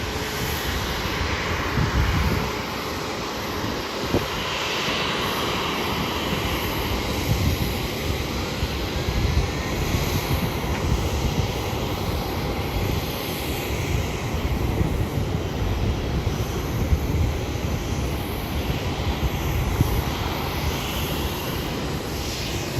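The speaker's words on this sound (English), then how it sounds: "Two Southwest planes, one of them pushing back, one of them going in." Southwest Airlines jets taxiing and pushing back at Hollywood Burbank Airport make a steady, moderately loud engine drone that holds throughout without a break, with no voices.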